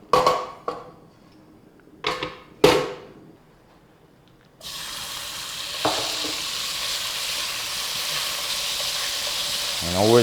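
Korean spicy pork with cabbage, carrot, onion and leek in a wok: a few loud clanks and scrapes of metal first, then a sudden steady loud sizzle and hiss as the food hits the hot pan.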